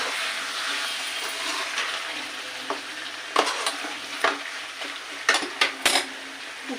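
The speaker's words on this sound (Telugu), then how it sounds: "చికెన్ మనం బాగా కలుపుకోవాలి" Washed chicken pieces being stirred into red-fried onions for a chicken gravy, a steady pan sizzle broken by several sharp scrapes and clinks of a spoon against the pot, close and fairly loud with no talking.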